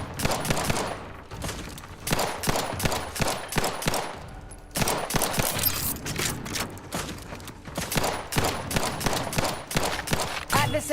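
Sustained gunfire in The Outer Worlds 2, with dense automatic bursts rattling almost continuously, loud and close, broken by one brief lull near the middle.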